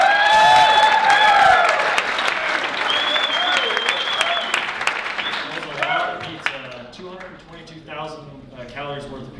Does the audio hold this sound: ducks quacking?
no